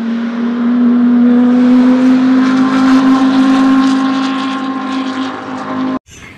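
A toy race car gives off a loud, steady electronic engine drone with a buzzy, humming pitch that holds level for several seconds. It then cuts off abruptly just before the end.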